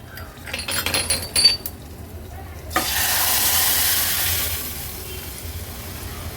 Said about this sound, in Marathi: ही शिजवून घेतलेली मुगाची डाळ आपण आता फोडणीला घालणार आहोत. व्यवस्थित मिक्स करून घ्यायची आहे.